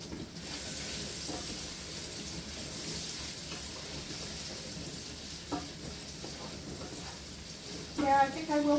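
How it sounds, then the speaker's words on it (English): Food sizzling as it fries in a pan during supper cooking, a steady hiss running throughout, with occasional clinks, a brief voice and a sharper clatter near the end. "I don't need it sizzling all up right now"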